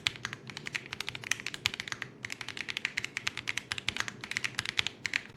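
Fingers type on a mechanical keyboard with a crisp, bouncy feel, a fast run of clicky keystrokes with a brief pause midway, close and clear, no voices.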